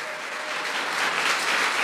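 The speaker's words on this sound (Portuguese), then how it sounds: "Vamos aplaudir o nosso Deus." A church congregation claps together during a worship service, with dense, steady applause that swells slightly in loudness across the short stretch and has no talking over it.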